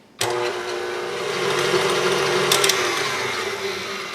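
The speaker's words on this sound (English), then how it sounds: "we're going to whisk together 5 eggs in our KitchenAid" A KitchenAid stand mixer starts abruptly and whirs on steadily as it whisks five eggs, a loud close motor drone with a rhythmic whisk churn and a few brief rattles.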